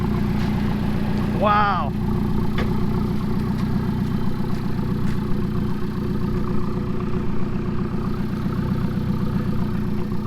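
An Alfa Romeo 4C with a centerline exhaust idles close by, a steady, throaty low rumble with a fast even pulse, while a voice briefly exclaims over it.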